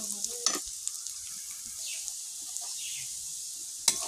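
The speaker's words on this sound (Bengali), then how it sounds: "পেঁয়াজটা ভাজা হয়ে গেছে" Chopped onions sizzle and fry in a pan while being stirred for a meat curry, a steady close hiss with small scraping stirs and brief spatters, no talking.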